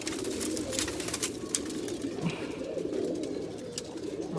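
Giribaj pigeons kept in a loft cooing: a continuous, low, throaty murmur of several birds overlapping close by, with faint rustling and light clatter on top and no talking.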